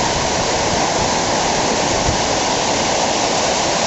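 Floodwater rushing through a river in a small Australian town, a loud continuous roar of churning water, close and unbroken.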